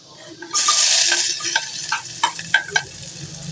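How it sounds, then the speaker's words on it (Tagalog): Loud, steady sizzle of garlic and aromatics hitting hot oil in a pan for squid adobo, with clinks of a utensil stirring over the continuous hiss. "mainit na yung mantika natin. Lagyan natin yung ating ricado."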